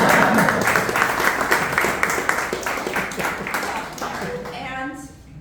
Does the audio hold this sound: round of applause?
yes